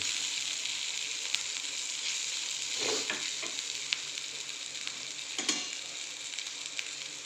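Green capsicum fries in a pan with a steady close sizzle, broken by a few soft stirring scrapes; no voices are present.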